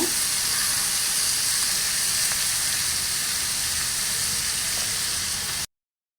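Taro stolons and dried fish fry in a pan with a steady, loud, close sizzle and hiss that runs unbroken for several seconds, then cuts off abruptly.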